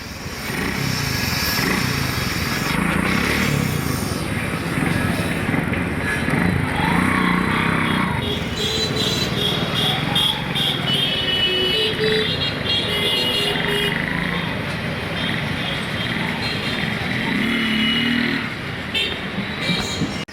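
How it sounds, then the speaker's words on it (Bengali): A modified motorcycle runs steadily on a test ride, its engine a constant loud drone blended with road and traffic noise, with a horn-like toot early on and no break. "তো দেখেন বাইকের সাউন্ডটা দেখেন কীরকম আসছে"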